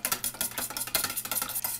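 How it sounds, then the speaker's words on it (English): Chopsticks beat an egg into takoyaki batter in a bowl: fast, steady scraping and tapping strokes, close and continuous without pause. "And we're going to break up the egg"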